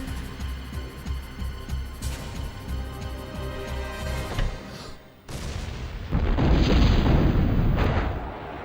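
Explosions and gunfire from the Die Hard Trilogy PlayStation game, set in Nakatomi Plaza, come as a busy mix of shots and booms over game music, then a heavier, rumbling blast takes over for the last few seconds.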